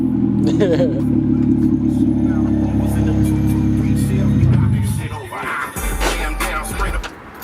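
A Honda car with a swapped B20 engine drones loudly as it accelerates, a sustained engine note heard from inside for several seconds before it fades under people talking.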